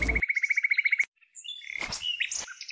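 Sparrow chirping in a children's cartoon: a rapid run of about a dozen bright, evenly spaced chirps, a short pause, then a looser burst of twittering and calls, loud and close with no talk.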